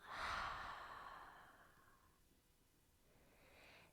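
A loud open-mouthed exhale during a yoga breathing exercise, a single long breathy sigh that swells in the first half second and then fades slowly over a few seconds, heard alone and close.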